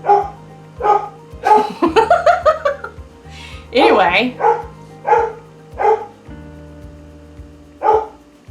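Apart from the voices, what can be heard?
dog barking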